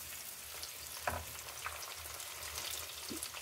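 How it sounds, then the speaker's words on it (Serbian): Carp fillets coated in panko crumbs fry in oil with a soft, steady sizzle. A few faint pops and light clicks of stirring sit within the quiet hiss, and no one speaks. "Nastavimo na istoj temperaturi dalje da pržimo"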